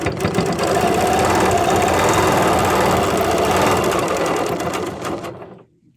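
A sewing machine stitches in the ditch through quilted string blocks, running close and loud in a steady rapid whir before stopping abruptly at the end.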